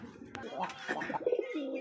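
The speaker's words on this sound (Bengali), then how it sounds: "দেখছেন একদমই কিন্তু সুন্দর একটা কবুতর" A fancy pigeon at a pigeon market gives a short, soft cooing call close by, low and throaty, lasting about a second.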